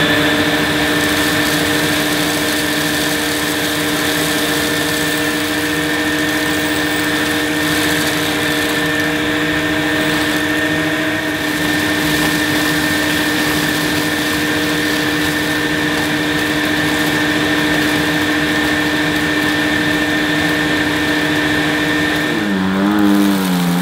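A 1980s Electrolux Electronic 506 upright vacuum cleaner runs on its boost setting, a loud, steady high-pitched motor whine that holds throughout, with a brief shift in pitch at the very end.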